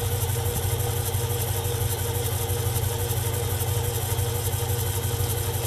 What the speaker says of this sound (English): I'm going to take it down first using the lathe.